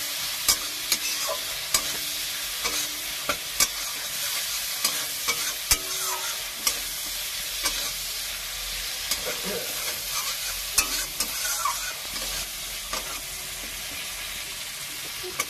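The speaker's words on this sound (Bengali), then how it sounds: "এবার মশলাটাকে একটু ভালো করে একটু কষিয়ে নেবো।" Spice paste sautéing in oil for Bengali amudi fish curry, a steady hiss and sizzle with regular sharp clicks of a spoon stirring and scraping the pan, close and continuous with no talking.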